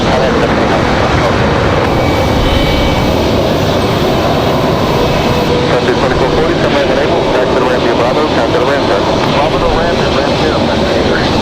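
A JetBlue jet spools up its engines at Raleigh-Durham airport, a rising whine and rumble over constant loud background roar, with a person talking over it.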